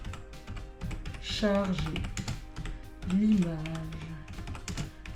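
Quick, light tapping on a computer keyboard while typing into a web browser search bar, a soft, irregular clatter running under someone speaking French.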